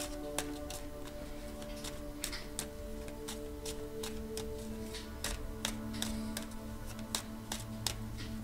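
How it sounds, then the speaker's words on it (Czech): Tarot cards are shuffled in quick, soft, irregular riffles and taps, faint and close, over a steady low hum with no talking. "Já si tady budu chvíli míchat karty"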